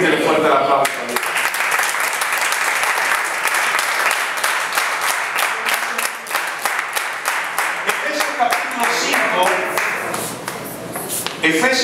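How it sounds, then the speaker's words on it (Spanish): A church congregation claps in sustained, energetic applause, loud and close, with a crowd's voices mixed in throughout. "Pídele fuerte el aplauso a Dios."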